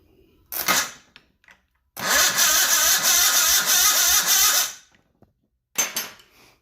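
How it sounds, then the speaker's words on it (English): An Onan CCKB generator engine with no fuel, cranked by hand or kick, turns over in a brief burst followed by a longer steady spell of fast mechanical chuffing, up close and loud, with a short bump again at the end. "let me kick this over, and you guys watch the flywheel"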